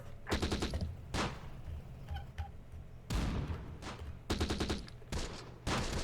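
Gunfire in the Close Combat: The Bloody First war game, with bursts of machine-gun fire and single loud shots coming in clusters with short pauses, close and sharp, and no talk.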